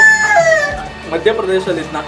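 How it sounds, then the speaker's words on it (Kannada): A Kadaknath black chicken on a poultry farm gives a single short crow, close and fairly loud, followed by a brief clucking tail. "ಕಡಕ್ನಾಥ್ ಬರ್ಡ್ ಬಂದು ಕಪ್ಪು ಕೋಳಿ"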